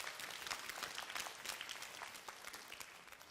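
A youth group at a church service applauds together, a steady wash of many hands clapping at once, fairly soft and distant, with no voices on top.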